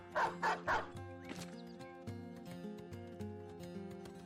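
War dogs unleashed in the video game Battle Brothers, with three quick loud barks at the start followed by a softer yelp over steady game music.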